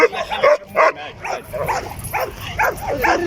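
A young Staffordshire guard dog barking at a breeder's kennel, giving a quick series of close, sharp barks and yips that come in uneven bursts.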